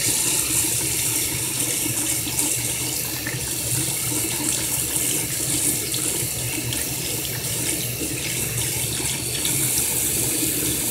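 Running tap water pours steadily into a sink while a makeup brush is rinsed under it, a loud, close, continuous gushing hiss with no voices.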